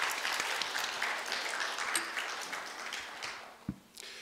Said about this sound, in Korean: 우리 다시 한번 박수 쳐줬으면 좋겠습니다.